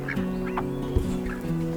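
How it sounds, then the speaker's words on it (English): Ducks sit in a cold farm shelter, giving a few close, nasal calls over a steady droning background hum, with no talking. "And then we have down here ducks."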